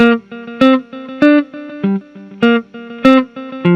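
Electric guitar run through a delay pedal into an amplifier, playing a short repeating melodic riff of plucked notes, each note echoing behind it, loud and clean with a bouncy, rhythmic pattern.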